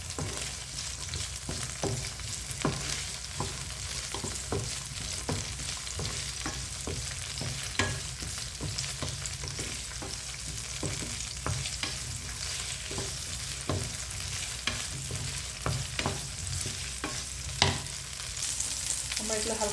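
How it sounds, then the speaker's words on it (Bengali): Green and red capsicum fry in a hot pan with oil, a continuous close sizzle punctuated by frequent rhythmic spatula scrapes and taps, no voices. "এখন আমি একটু একটু করে সবজিগুলো দিয়ে দিচ্ছি।"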